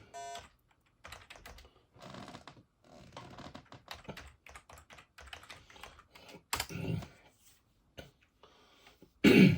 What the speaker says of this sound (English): Still using my PS2 keyboard